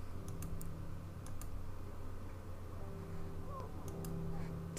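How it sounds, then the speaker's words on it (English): A Sims 4 character typing at a computer keyboard: faint, irregular in-game key clicks sitting over a steady background hum and game ambience, quiet and somewhat distant. "He can go on the computer and practice typing."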